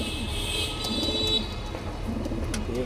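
Pigeons kept in a loft in Mohammadpur, soft repeated throaty cooing phrases close by, several overlapping rhythmic coos over a low background hum.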